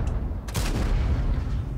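Tank cannon shot in World of Tanks, a single heavy boom with a broad crack that rolls into a sustained rumble, loud and close, with no talk.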